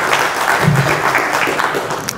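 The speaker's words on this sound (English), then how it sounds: "I want you to encourage him with a large round of applause" A conference audience applauds after a talk on DNS, a short burst of steady, moderately loud clapping with a faint voice beneath it.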